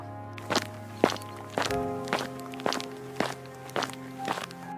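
Slow, evenly spaced footsteps, about eight heavy thuds roughly half a second apart, over a steady low hum.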